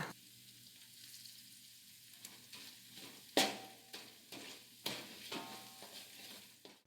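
Onions with torn lime leaves sautéing in a pan, a soft continuous sizzle broken by several scraping stirs and a few sharp clanks of the spatula against the pan, close and fairly quiet.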